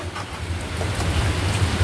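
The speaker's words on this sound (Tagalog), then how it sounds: "Sobrang uwan mga idol. Ulan." Heavy rain pours steadily with a dense, even hiss and low rumble, loud and continuous with no voices.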